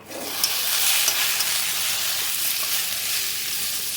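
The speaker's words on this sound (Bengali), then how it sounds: "নুনটা দিয়ে দিলাম দিয়ে ভালো করে নেড়ে নেবো" Okra sizzles loudly in hot oil as it is stirred with turmeric, chilli powder and salt, a steady dense frying hiss with faint scraping of the spoon through the whole stretch, no voices.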